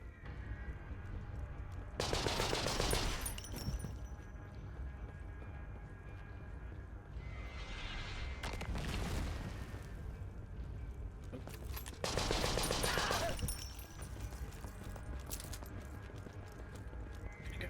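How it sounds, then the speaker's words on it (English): Machine gun fire in the war game CONSCRIPT, bursts of loud, harsh rattling shots coming in waves over a constant background of battle noise, with some quieter mechanical clicks between bursts. "just running directly at a machine gun nest"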